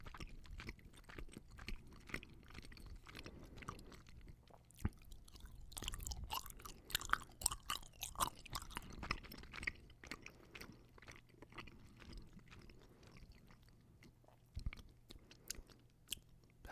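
Close, quiet chewing of gummy bears and gummy worms, with soft squishy bites and sticky mouth sounds coming in irregular bursts over a low background and no talking.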